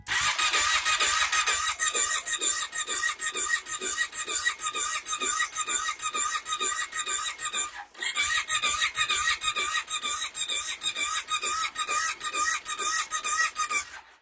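A Kawasaki KVF 650 ATV engine is cranked repeatedly without catching, giving a loud, rhythmic, fast chugging starter sound close by that pauses briefly midway and then resumes.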